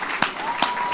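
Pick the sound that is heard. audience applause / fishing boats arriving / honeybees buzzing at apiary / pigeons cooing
audience applause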